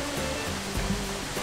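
Waterfalls in Bolivia pour with a steady, broad rushing roar, continuous and moderately loud with faint low thumps beneath, no voices present.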